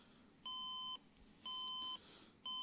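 Three steady electronic beeps from a PC that gives no video input, each about half a second long, evenly spaced about a second apart, with quiet background hiss between.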